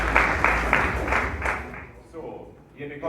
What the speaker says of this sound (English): they're hugging on the stage, and people are clapping